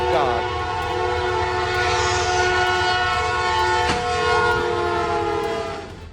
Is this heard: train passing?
yes